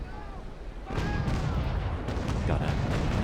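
Ship cannons fire in the naval battle game Naval Action, a heavy booming volley that kicks in after a second and rolls on with layered rumbling blasts and splashes at mid distance.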